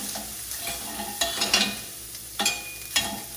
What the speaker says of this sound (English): Add the green onion for flavoration. And then stir it a little bit.